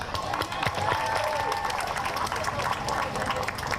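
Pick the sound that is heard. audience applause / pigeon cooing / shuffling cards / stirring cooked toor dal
audience applause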